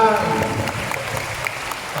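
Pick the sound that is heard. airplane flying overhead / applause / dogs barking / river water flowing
applause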